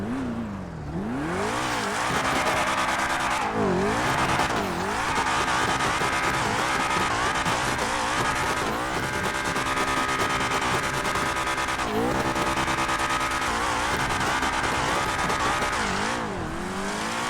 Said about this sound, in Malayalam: വണ്ടി നമുക്ക് ഇടുന്നത് ജസ്റ്റ് ഒന്ന് റെവ് ചെയ്യാം